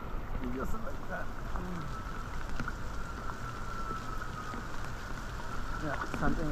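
Rain falling on an infinity pool at a resort in Palawan, steady patter of drops throughout while people talk over it.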